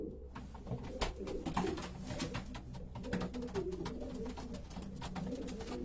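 Racing pigeons coo steadily in a loft, including a champion old cock of Alien bloodline, with overlapping low rolling calls and scattered wing flutters and clicks close by.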